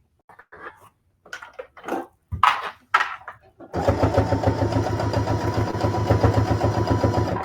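A voice talks in short phrases, then a sewing machine starts up sewing a basting stitch on fabric, giving a steady, close, buzzing motor hum with a rapid rhythmic needle chatter that continues to the end.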